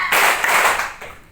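Children clap together in a counting clap game at a school gathering, a single burst of hands that rises quickly and fades within a second or so, fairly close and moderately loud.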